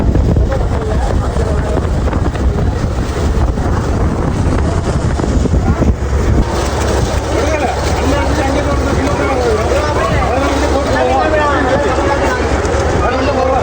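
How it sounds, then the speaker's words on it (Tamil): A ship moves across open water, its engine rumbling steadily under heavy wind buffeting the microphone, with constant roaring noise and a crowd of passengers chattering in the background. "பாருங்க அண்ணன் கப்பல் ஓட்டிட்டு இருக்காரு"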